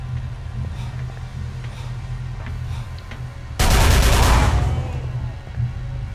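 Rapid automatic gunfire from a weapon in the video game Call of Cthulhu: Dark Corners of the Earth, a loud dense burst of shots lasting about two seconds over a steady low rumble of game ambience.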